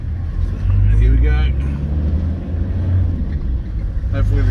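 A car drives along a road in Tonga, its engine humming low and steady inside the cabin, while a person talks over it.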